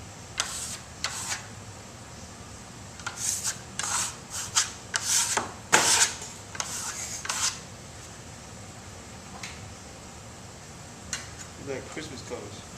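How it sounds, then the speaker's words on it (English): A trowel spreads and burnishes dark red Venetian plaster over green on a sample board, giving intermittent scraping and rasping strokes that cluster in the middle and then thin out to a few quiet passes. "now he's putting a dark red on top of this green, and he's going to burnish it in some areas"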